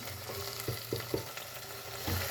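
Spices being stirred into masala frying in a pan for a malai and onion sabzi, a steady close sizzle broken by several soft scraping stirs, with no talking.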